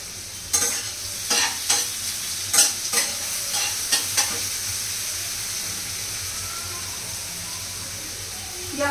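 Very finely minced onion frying with salt in a pan, a steady close sizzle and hiss with about a dozen scraping stirs in the first half, then continuous frying.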